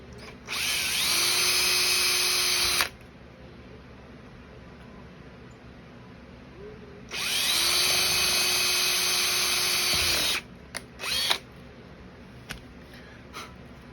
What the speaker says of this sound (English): I gotta drill the top 2 holes here